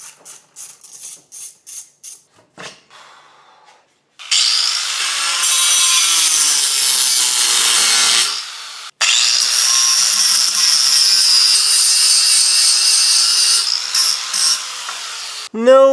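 A hand saw cuts a plastic nipple off a car engine intake in a 240sx engine bay, preceded by a few sharp taps and a brief pause, then loud continuous rasping strokes close by.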